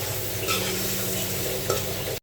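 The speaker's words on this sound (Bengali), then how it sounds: "এখন মাছ দিব মাছগুলো দিয়ে একটু নাড়াচাড়া করে দিই" Pabda fish and masala sizzle steadily in a hot pan while a spoon stirs through them, a close, continuous frying hiss with a couple of brief scrapes and no talking.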